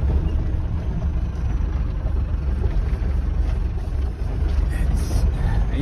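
Trucks zigzagging through sand dunes give a steady, heavy engine drone with wind rumbling across the microphone; a voice is faintly heard beneath the noise.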